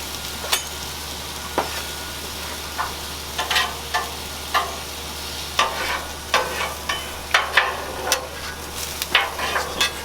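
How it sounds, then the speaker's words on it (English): Corn tortillas warming in a hot pan as cheese melts onto them, with a soft low sizzle and a run of scattered scraping, flipping and clattering sounds against the pan; no one speaks. "we're going to melt some cheese onto the tortillas instead of putting cheese on them afterwards"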